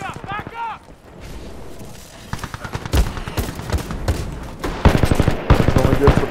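Shotgun blasts in the shooter game Titanfall 2 go off as repeated loud, sharp bangs, spaced unevenly and clustering toward the end, with someone talking over the firing.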